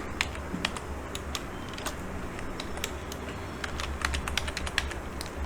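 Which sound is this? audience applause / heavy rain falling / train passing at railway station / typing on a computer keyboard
typing on a computer keyboard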